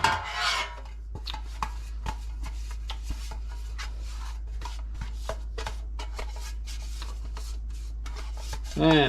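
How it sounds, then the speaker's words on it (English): Baking pans greased for zucchini bread, a soft repeated rubbing and scraping against metal, close and fairly steady, with a few light clinks of pan and utensil and a louder bump at the end. "You want to grease it on the bottom and on the side pretty good"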